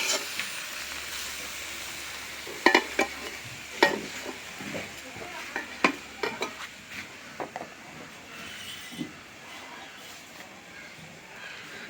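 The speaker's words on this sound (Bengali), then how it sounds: "হয়ে গেল কলই শাক ভাজা, খেসারি কলই।" Khesari (grass pea) greens fry and get stirred in a pan, with a continuous sizzle and a series of sharp spatula scrapes and knocks that thin out toward the end.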